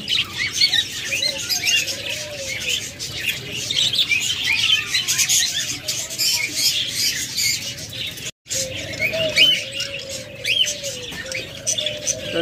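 Steady, close pigeon chatter, including nesting Lutino pigeons, a mix of soft calls and chirps, continues throughout with rustling and a brief dropout near the end.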